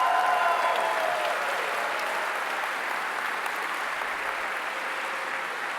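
Audience at an inspirational student success talk applauding steadily, a dense wash of clapping that holds for several seconds and slowly thins, with no cheering voices standing out.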